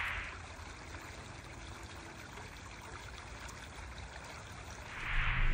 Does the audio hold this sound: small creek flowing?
yes